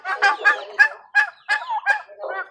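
A turkey gobbles in a rapid burst of wobbling, throaty calls, several close together, loud and close with no talking.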